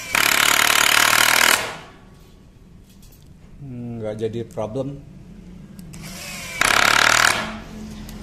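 A Tekiro 20V cordless impact driver runs at speed setting 1 in two loud rattling bursts of hammering, with someone speaking between them.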